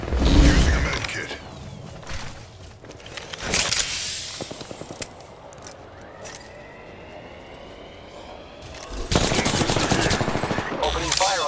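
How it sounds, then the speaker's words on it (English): Video game gunfire crackles in loud bursts of rapid automatic fire, clustered at the start and again near the end, with mechanical clatter and game effects in between. "Opening fire on the enemy."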